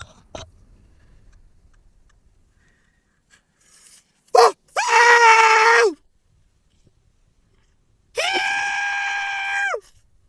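A man lets out emotional screams, a short sharp cry followed by a long, loud, sustained yell, then after a pause a second prolonged scream of similar strength, close with silence between.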